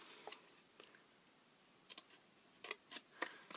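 Scissors cut fabric for a small coin purse, heard as a few faint, crisp snips spaced out, then a quicker cluster of sharp snips near the end, close by and quiet with no talk.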